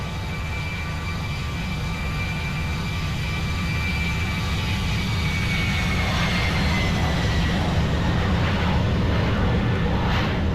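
Jet engines of a Boeing 737-800 at takeoff power, a loud, steady roar with a rising whine that builds slowly, heard from inside the aircraft.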